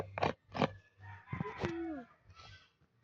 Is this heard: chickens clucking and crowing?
yes